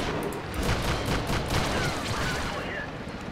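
Tank gunfire in World of Tanks, a cluster of quick booming shots and crackling impacts in the game's battle, fairly quiet and with no voice over it.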